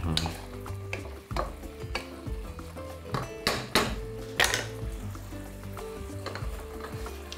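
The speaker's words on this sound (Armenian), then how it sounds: "Սիրտն ու լյարդը 3 րոպե տապակելուց հետո կհանենք ամանի մեջ։" Fried beef heart and liver scooped from a pot into a bowl, with the sauce left behind: irregular metal scrapes and clanks over a soft sizzle, close by.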